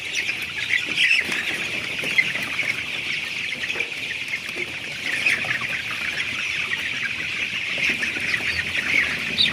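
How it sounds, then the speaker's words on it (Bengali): A flock of 22-day-old color bird chicks peeping and chirping continuously in a dense, steady chorus, close by, with no talk. "দেখতে পাচ্ছেন আমাদের আজকে 22 দিন বয়স কালার বার্ড"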